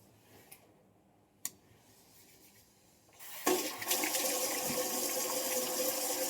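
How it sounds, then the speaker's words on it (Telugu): Tap water runs steadily at a kitchen sink as hands are washed before cooking, a soft tick and a sharp click coming first, then the stream gushing in loud and close for the last few seconds. "ఫస్ట్ హ్యాండ్ వాష్ చేసుకుంటున్నాను ఫ్రెష్గా"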